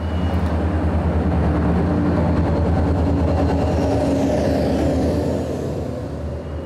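Danish DSB Class ME diesel locomotive hauling a train on the Zealand rails, a loud, steady rumble of engine and rolling stock close by that fades slightly toward the end.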